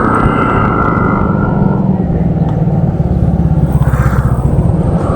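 Cars pass along a road in a steady, loud, close rumble of engines and tires that swells as vehicles go by. A voice speaks faintly now and then beneath the traffic.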